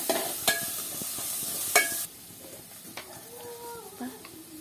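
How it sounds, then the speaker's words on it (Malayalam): A spoon stirs food in a sizzling cooking pan, giving scraping clinks over a loud frying hiss that suddenly drops away after two seconds, leaving quieter stirring and faint background sounds. "നന്നായി ഇളക്കി കൊടുക്കുന്നുണ്ട്."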